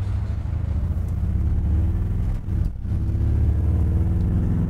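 A 1957 Chevrolet Bel Air restomod drives along with a steady deep engine rumble, loud and close, dipping briefly partway through before settling back to a even drone.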